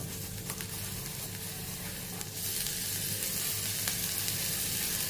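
Steady sizzle of a quarter teaspoon of oil with cumin seeds crackling in a hot kadai, continuous and close, growing slightly louder partway through.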